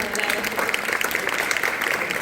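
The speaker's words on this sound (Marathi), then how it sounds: "एकदा जोरदार परत टाळ्या मधुरांचा" Loud, close audience clapping at a Diwali gathering in a Pune housing society, a quick continuous patter of many hands with a faint voice underneath.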